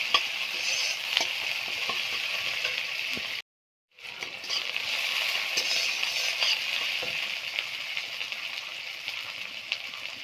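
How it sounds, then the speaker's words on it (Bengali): Chopped ginger, garlic and green chili fry in a pan with a dense, steady sizzle and faint stirring scrapes, briefly cutting out before resuming, with no talking. "অল্প ভাজা ভাজা করে নেব।"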